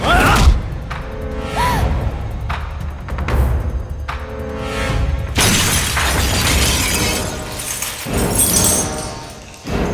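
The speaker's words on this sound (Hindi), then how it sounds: "मालिक, दादाजी की मूर्ति टूट गई।" A grandfather's statue shatters in a loud crash of breaking pieces with clinks and thuds, followed by sweeping dramatic whooshes and a second burst of debris, all close and forceful.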